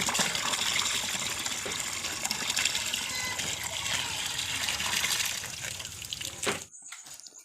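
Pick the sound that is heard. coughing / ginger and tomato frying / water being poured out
water being poured out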